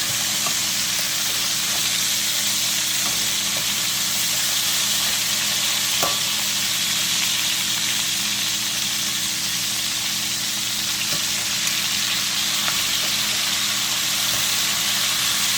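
Turkey wings frying in a pan give a steady, even sizzle that holds throughout at moderate level, with a few faint clicks and stirring touches scattered through and no talking.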